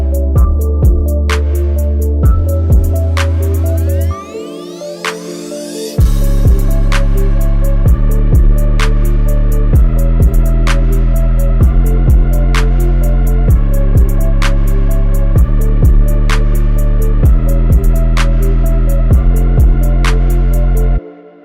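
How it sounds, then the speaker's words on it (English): A synth brass sound from the Nexus plugin leads into a dark trap beat. A sustained brass chord rises in a sweep, then heavy 808 bass and crisp rhythmic percussion play loudly and steadily to the end, with no voices. "I kind of like lead it into this synth brass that you heard. That's out of Nexus,"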